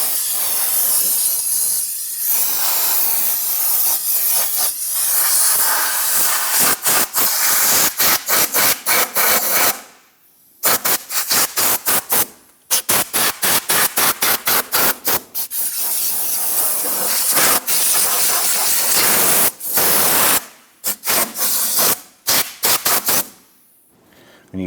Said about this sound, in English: Use your vacuum, use the air hose, whatever you have